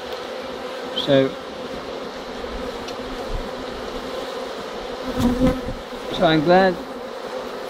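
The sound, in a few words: honeybees buzzing around an open beehive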